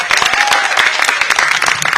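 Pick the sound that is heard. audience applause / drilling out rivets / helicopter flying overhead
audience applause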